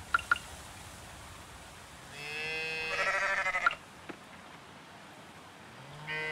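A farm sheep bleats in the Coral Island farming game, one drawn-out wavering call in the middle after a couple of faint clicks, clear and fairly close with quiet game ambience around it and no talking.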